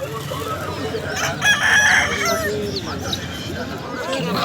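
At the Taltol haat poultry market in Purulia, hens cluck and a rooster crows nearby, amid the steady murmur of a busy crowd talking.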